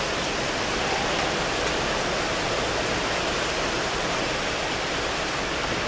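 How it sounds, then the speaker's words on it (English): Steady, broadband wind roars outdoors, a dense continuous rush with no gusting pauses, loud and close as if buffeting the microphone, with no talking. "Well, the wind is coming. It's blowing me."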